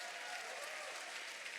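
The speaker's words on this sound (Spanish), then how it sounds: "le damos un fuerte aplauso a Dios." Church congregation applauding together in a steady, dense wash of clapping that fills the whole moment without pause, with no voice over it.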